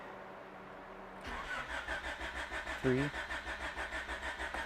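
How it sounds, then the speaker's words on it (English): A Honda Prelude engine cranks over strongly, the starter turning in an even, pulsing rhythm after a click, with a brief voice counting partway through; close and moderately loud. "It's a strong crank."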